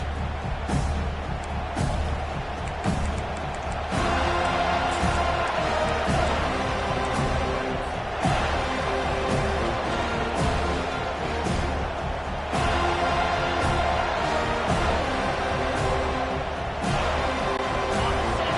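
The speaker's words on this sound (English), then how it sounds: "Listen to the crowd energy here in the early going." A large stadium crowd at a football game against FSU roars steadily throughout, a dense wall of cheering noise with a voice speaking over it.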